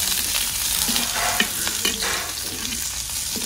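Red chillies frying in a pan for coconut chutney, with a steady close sizzle, scattered crackles and a few scraping stirs, no voices.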